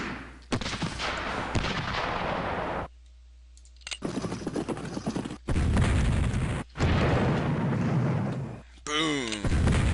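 Cannon and gunfire bursts from the Civil War Generals 2 battle game, with long loud booming, rumbling volleys broken by brief gaps and a short mechanical whirring sound near the end.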